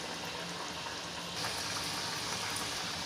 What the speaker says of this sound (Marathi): माझं तेल गरम झालं आहे आणि त्यात मी आता ही भाकरवडी सोडणार आहे